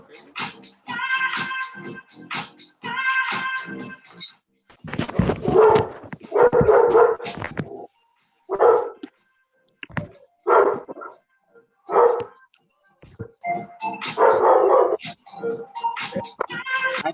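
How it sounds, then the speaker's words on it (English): A dog barking during an online video call, repeated loud bursts of barks and yips in irregular clusters separated by short pauses, close to the microphone. "I hear that lovely dog."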